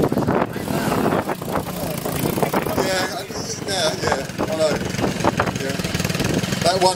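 Motorcycle resembling a Honda 90 but fitted with a big bore 140 engine, running and revving at a custom show amid wind noise, with people talking over the engine throughout.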